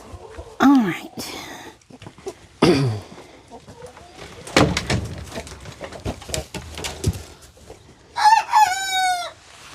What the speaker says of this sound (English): it was a really sad crow